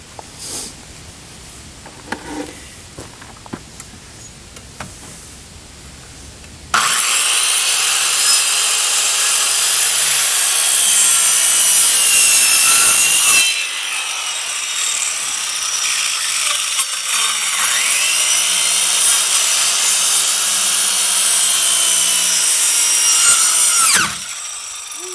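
A saw cuts a notch into a wooden board for porch roof trusses, with scattered taps and handling first, then long, loud, steady rasping strokes up close that ease slightly midway before stopping near the end.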